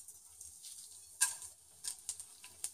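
Mustard seeds hit hot oil for a tadka for papad kootu, giving a faint, steady sizzle broken by a few sharp crackling pops at uneven intervals.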